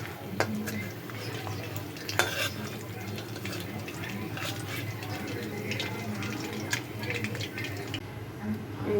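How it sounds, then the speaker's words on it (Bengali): Mourola fish frying in hot oil, a steady hiss with scattered metal clinks and scrapes as the pieces are lifted out of the pan. "মাছগুলো ভাজা হয়ে গেছে এখন মাছগুলো সব আমি"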